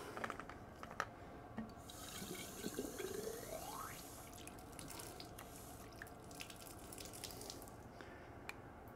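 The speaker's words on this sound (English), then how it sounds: "I'll fill it with water." Water runs and splashes as it fills a homemade PVC pipe pressure-test rig holding a flashlight, a steady close trickling and gurgling with faint drips, no voices.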